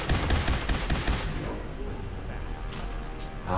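Rapid gunfire in the game Fallout 4, a quick burst of clattering shots that stops abruptly after about a second, leaving a quieter ambient hum with faint sounds.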